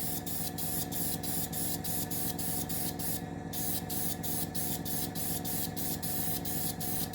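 Close, continuous hiss from a spray gun painting a Project 955 Dolgoruky model submarine, with regular rhythmic pulses and a brief louder burst midway, no talking.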